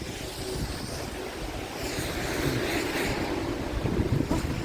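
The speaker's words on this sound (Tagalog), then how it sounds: "Malakas pa ang hangin." Strong spring wind gusting outdoors in Canada, a loud continuous roar buffeting the microphone that swells and stays heavy throughout.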